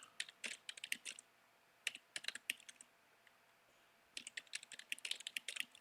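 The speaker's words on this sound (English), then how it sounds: "I can just hear keyboard clicking and mouse clicking ASMR" Computer keyboard keys clatter in quick, close bursts of crisp clicks, with brief pauses between flurries and occasional sharper clicks mixed in, all heard alone in a quiet room.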